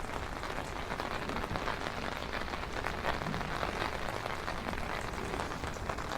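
Steady rain patters densely on leaves and ground, a soft continuous hiss of drops with no voices.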